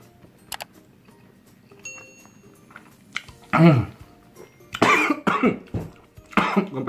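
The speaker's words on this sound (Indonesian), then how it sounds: "Sampai batuk." After eating a spicy kebab, a person coughs several times in close, rough bursts, spaced irregularly over a few seconds, with faint clicks and handling noise before them.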